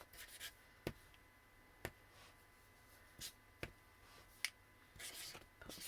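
Pen writing on a printed party invitation, quiet scratchy strokes broken by a few sharp taps and rubs, faint and close in a still room.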